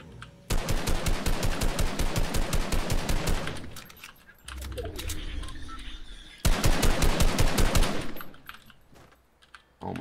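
Rapid automatic gunfire in a shooter video game, two long bursts of fast evenly spaced shots with a quieter gap between them, loud and close.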